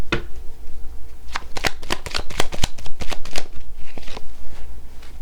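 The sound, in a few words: shuffling cards for a card reading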